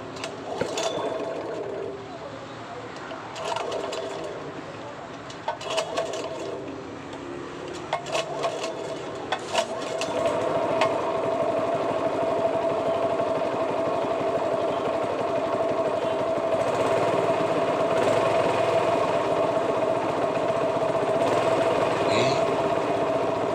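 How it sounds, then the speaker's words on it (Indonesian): A Honda 3-inch water pump engine, running after a repair for no water output, starts with a few uneven bursts and then settles into a steady, close mechanical drone that holds to the end. "Oke, mesinnya sudah hidup normal"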